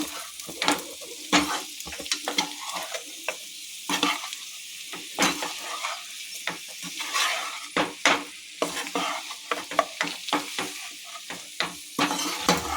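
Potato pieces sizzle and fry in a pan, with repeated stirring scrapes and clatters of a utensil against the pan at an irregular rhythm.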